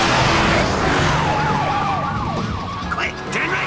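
A police siren wails through a cartoon scene, its warbling rise and fall growing over steady road and traffic rumble, loud and continuous.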